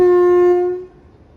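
A WAP7 electric locomotive sounds its horn at Lalaguda, one loud, steady, close tone held for most of a second before cutting off, with no talking.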